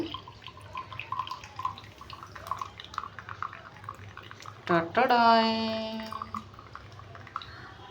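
Homemade rose water pours in a thin stream through a strainer into a glass, rising in pitch as it fills, after a few quiet drips and soft background speech.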